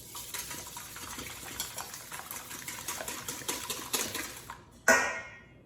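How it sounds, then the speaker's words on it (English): Eggs whisked in a bowl for a caramel bread pudding, a quick steady clatter of whisk against the bowl with rapid rhythmic ticks, close and fairly quiet, ending in a sharper clink. "whisk your eggs"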